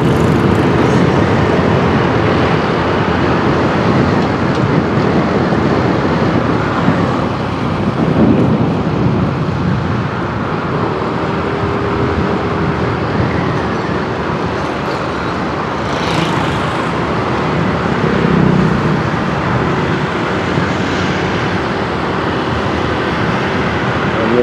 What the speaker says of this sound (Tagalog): Medyo matraffic pa, marami pa sasakyan.